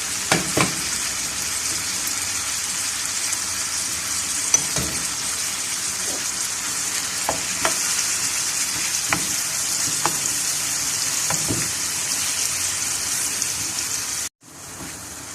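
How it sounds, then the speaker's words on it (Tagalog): Chopped tomatoes sizzling in a pan for a bitter gourd and chicken liver stir-fry, steady loud frying hiss with occasional spatula scrapes and taps, ending abruptly; no voices. "ilalagay natin yung kamatis natin para maluto ng maayos."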